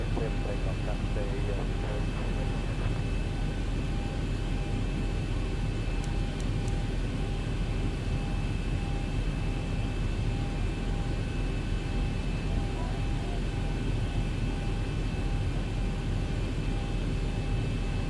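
A Boeing 737-800 jet engine roars steadily through a simulated takeoff in X-Plane 12, a broad constant rumble and hiss that stays loud and unchanging throughout.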